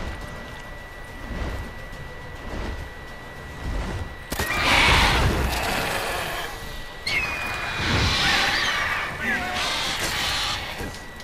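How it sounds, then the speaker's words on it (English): Several horse whinnies from The Witcher 3: Wild Hunt ring out in bursts over the game soundtrack, with a sharp swish and muffled background effects between them; no talking. "The wild horse, isn't it? Or is that my horse?"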